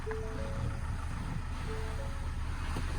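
A Ford Transit refrigerated van's engine idles with a steady low rumble under constant background hum, unbroken throughout and without speech.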